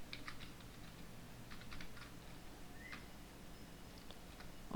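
Rapid keyboard typing as HTML code for a nested list is entered on a computer, with quick irregular key clicks over a steady low room hum.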